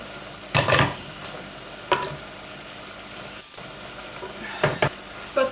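Food sizzles quietly in a pot, with occasional scraping stirs and clinks of a utensil against the pan.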